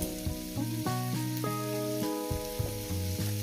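Chopped green chili frying with onion in hot oil, sizzling steadily and close throughout, with a bright melodic tone layered over the crackle.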